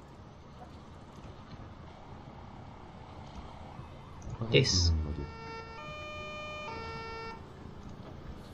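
A steady, wailing ambulance siren from the video game Emergency 4, running a Debrecen 2017 mod, comes in with a brief louder burst and then holds its tones under quiet talking.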